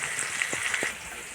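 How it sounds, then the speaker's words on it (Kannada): Mustard seeds and cumin frying in hot oil, a soft crackling sizzle with a few sharp pops and stirring taps, close and quiet, no talk. "ಸಾಸಿವೆ, ಜೀರಿಗೆ ಎಲ್ಲ ಎಣ್ಣೆಯಲ್ಲಿ ಫ್ರೈ ಮಾಡ್ತಾಯಿದ್ದೀನಿ"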